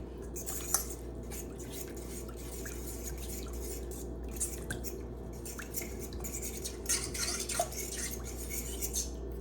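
Ingredients get stirred together in a bowl with a spoon, soft wet squishes and light clinks of the spoon against the bowl over a low steady hum, fairly quiet and close.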